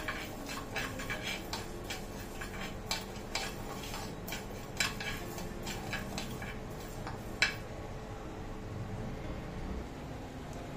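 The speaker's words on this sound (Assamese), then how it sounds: "অন কৰি মই মছলাখিনি ভাজি লম শুকানে শুকানে" Repeated light clinks and scraping taps of a utensil stirring spices in a dry pan on a gas stove, steady and close over a low background hum.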